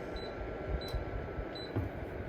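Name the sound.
heater control button click beeps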